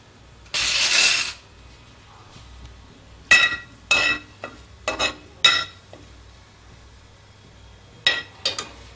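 Cinnamon, cloves, a bay leaf and green cardamom fry in ghee while making Amritsari chole, giving a short loud hiss followed by several brief clinks and scrapes of a utensil against the pan, with quiet pauses between.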